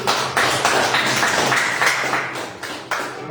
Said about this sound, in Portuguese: As palmas ao Senhor.